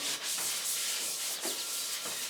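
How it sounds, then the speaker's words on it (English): Light scuffing of primed bare metal on a log splitter wedge with an abrasive, a continuous dry rubbing rasp with short rhythmic strokes, close and fairly loud, no voices. "really light scuffing"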